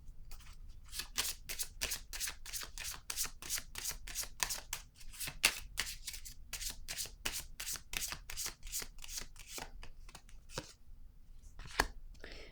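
Tarot cards are handled and laid down in a quiet room: a long, even run of crisp card flicks and soft slaps, closely spaced and steady, with a couple of sharper snaps near the end.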